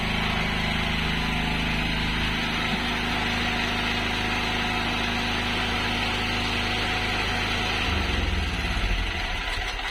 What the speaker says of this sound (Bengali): তিরিশ সেকেন্ডের মধ্যে জেনারেটর আবার বন্ধ হয়ে যাবে